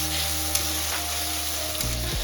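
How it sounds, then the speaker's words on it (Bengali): Ginger-garlic paste frying in a pan for Bengali chicken curry. A loud, constant sizzle with a sharp tap or two, over a steady low hum that changes near the end. "এবার দিয়ে দেবো আদা রসুনের পেস্টটা, আমি এখানে 2টোই পেস্ট করে নিয়েছি। নিয়ে আবার একটুখানি ভালোভাবে কষিয়ে নেব।"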